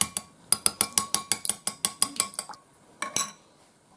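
Beating eggs into dough ingredients in a bowl, a fast regular run of about a dozen sharp metallic clinks from a utensil striking the bowl, close and loud, then a short pause and a few more strikes.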